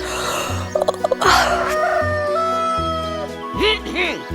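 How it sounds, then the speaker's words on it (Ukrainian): A rooster crows loudly and close several times, in drawn-out calls separated by short pauses, with a few clucks and other background sounds in a cartoon scene. "Півнику, не буди мене, будь ласочка."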